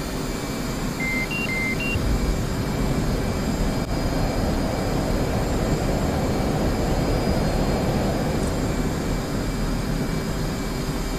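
An F-18C jet engine in the DCS World flight simulator spools up as a steady, loud broadband roar that holds for the whole stretch, with a few short electronic beeps near the start and no talking.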